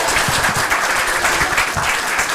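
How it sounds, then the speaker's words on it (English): Audience at a county election security event claps for the final panel, a dense, even wash of applause lasting the whole short moment. "Could we get a round of applause for our final panel, please?"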